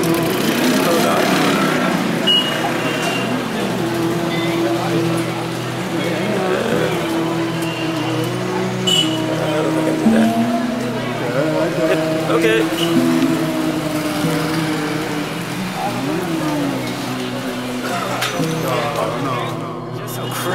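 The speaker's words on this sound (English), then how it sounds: "the traffic here. It's insane. You have to watch out for everything. And it's really noisy." Dense street traffic in India, a steady roar of car and motor engines with constant mechanical din filling the scene throughout, loud and close, with people talking underneath.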